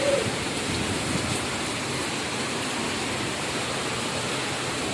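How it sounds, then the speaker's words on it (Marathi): Heavy rain falls in a steady, even hiss of many drops, moderately loud and unchanging, with no talking. "अय्यो लय पाऊस आहे"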